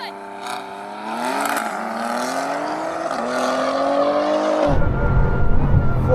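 Bugatti Chiron Super Sport launching against 1,000 hp BMW M4 and M5 in a drag race: a loud, rising engine roar with gear-change dips, building continuously, then a sudden burst of heavy low rumble and tire noise near the end, no talk.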